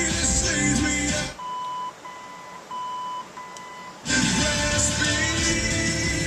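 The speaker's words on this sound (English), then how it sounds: "When you get it set where you want it, it will beep." An original AM radio in a 1962 Chevrolet Bel Air gives a few short, clear, repeated beeps, heard alone in a quiet gap between loud stretches of radio music.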